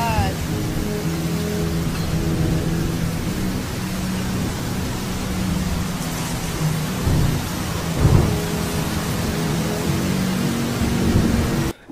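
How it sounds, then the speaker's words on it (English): Heavy rain pouring down in California with rumbling thunder, a dense steady hiss of rainfall and a low thunder roll swelling partway through. "Cali has definitely been getting the downpour."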